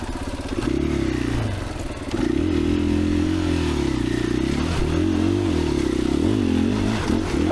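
A 2021 KTM 500EXCF dual-sport bike on an off-road trail at Johns Peak OHV, its single-cylinder engine revving hard and close, rising and falling with throttle, with rattling clatter and thumps from the rough ground and suspension.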